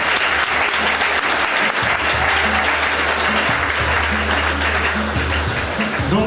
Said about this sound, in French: Acclamons pour la chante Jeannette